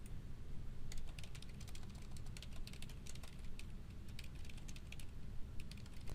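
Steady typing on a computer keyboard: a dense run of quick, light key clicks heard close and alone at moderate volume over faint background hiss, with no talking.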